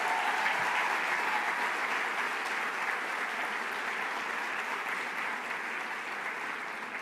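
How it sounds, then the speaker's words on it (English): A conference audience at a plenary session on Latino voting gives sustained, dense applause that holds steady at full strength for about seven seconds with no talking over it. "Let's give him a round of applause."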